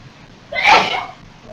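A single sharp sneeze bursts out close by, quick and loud, then trails off into quiet room tone.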